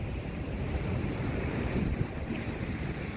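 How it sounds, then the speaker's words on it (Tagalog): Strong wind roars over waves and surf around boats on the water, a steady, loud rush with gusts buffeting the microphone throughout and no voices. "Ang lakas na ng hangin eh."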